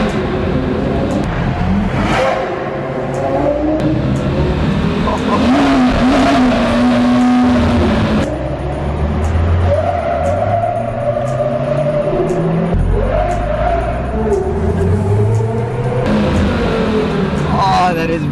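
A Porsche Carrera GT's V10 revs hard and rises and falls while drifting on a mountain road, loud and close throughout, with tire noise and some talk mixed in.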